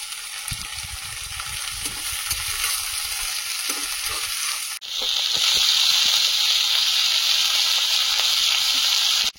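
Bitter gourd and potato slices fry in a pan with turmeric and salt, giving a steady close sizzle and hiss that grows louder and brighter halfway through, with faint stirring scrapes and no talk.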